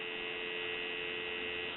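Dial tone from a repaired Western Electric 2514 touch-tone desk phone: a steady, unbroken electronic hum held at an even level for a short stretch, with a faint click at the end.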